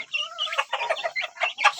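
Three-week-old chicks peep and cluck in a rapid, uneven run of short high calls, close and clear against silence, with no voices.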